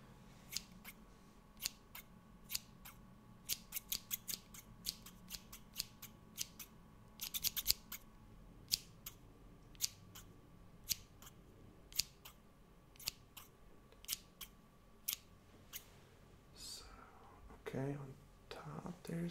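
Scissors snip hair during a soft-spoken haircut, crisp, close, rhythmic cuts repeating every second or so with a brief flurry midway, under quiet, gentle speech.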